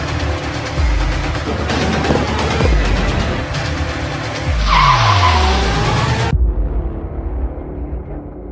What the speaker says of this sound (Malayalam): ഈ ബെൽറ്റ് സൗണ്ട് എന്ന് പറഞ്ഞാൽ ആൾട്ടർനേറ്ററിൻ്റെ ബെൽറ്റ് ലൂസാണ്